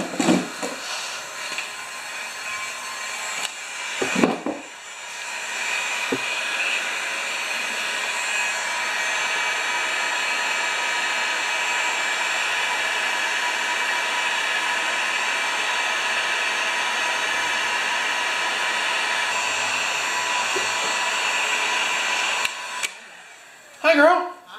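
Heating tool blowing hot air to form a retread onto a Craftsman EZ Walk mower wheel, a long steady rushing hiss held for about twenty seconds, with brief voices and knocks at the start and end.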